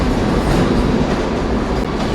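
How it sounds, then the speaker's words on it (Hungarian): Steady, loud rumble of a train running through a large tunnel, a dense continuous roar with low rail noise throughout and no voices. "Egy ilyen nagy alagút. Itt mennek a vonatok"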